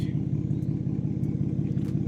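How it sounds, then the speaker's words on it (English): Exhaust of a BMW 335i converted from twin turbos to a single turbo, a low, steady rumbling burble at idle, close by, with someone talking over it. "the exhaust sounds a little bit more louder"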